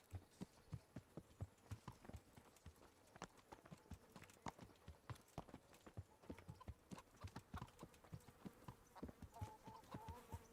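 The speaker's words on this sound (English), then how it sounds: "That's Bernard's horse" Horse hooves clip-clop in a steady, uneven rhythm at close range in the video game Kingdom Come: Deliverance, with no talking.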